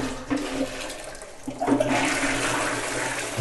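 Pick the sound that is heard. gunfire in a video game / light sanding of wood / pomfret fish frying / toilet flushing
toilet flushing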